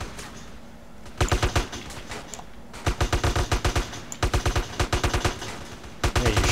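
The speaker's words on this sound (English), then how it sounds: "Hey, you're shooting me. It's alright, it's an ally shot." Allied automatic gunfire in GTA San Andreas rattles in loud rapid bursts, several clusters of quick repeated shots separated by short pauses, close and dominant with no talk over them.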